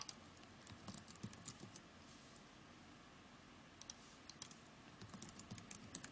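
Quiet clicking of keys on a computer keyboard, bursts of rapid taps separated by brief pauses, captured close and alone with no voice over it.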